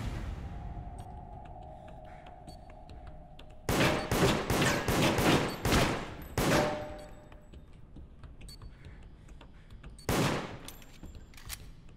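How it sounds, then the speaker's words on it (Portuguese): Gunfire in a multiplayer video game styled like Among Us: a rapid burst of several loud shots in close succession, followed by a single shot a few seconds later, against a quiet background. "O Dinho que tava atirando em mim."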